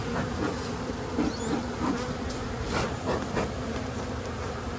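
A dense, steady drone of many honeybees buzzing close by around an open hive, continuous throughout with no voices.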